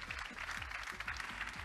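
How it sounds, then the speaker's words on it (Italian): An audience at an outdoor summer singing contest applauds, a dense continuous patter of many hands clapping at once, fairly faint and distant throughout. "fate sentire l'applauso."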